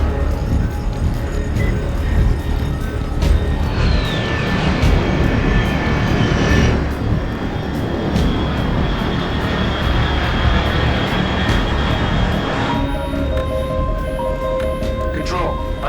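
In the video game Metal Gear Solid Delta: Snake Eater, an aircraft drones loudly overhead, a steady roaring engine rumble that holds throughout, with voices talking over it.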